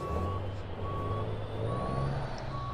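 Game truck in Euro Truck Simulator 2 backing up a trailer, its reversing alarm beeping in a steady repeating pattern over a low, continuous diesel engine rumble.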